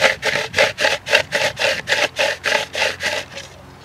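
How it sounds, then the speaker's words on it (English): Carp bait boilies are ground down into fine particles with about a dozen rhythmic, rasping crushing strokes, close and loud, at a steady even pace that fades out at the end. "You can see here how well that grinded everything up."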